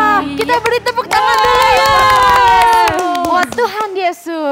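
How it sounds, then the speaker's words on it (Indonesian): A group of children and adults applaud at a children's church service, clapping mixed with voices and singing-like vocal tones, loud and close. "Wah, kita beri tepuk tangan dulu ya."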